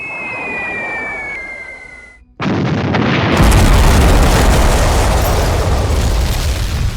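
Bombs dropped on an airfield in a B-17 Flying Fortress board game: a whistling tone fades, then after a brief pause a loud, sustained explosion rumble rolls on to the end.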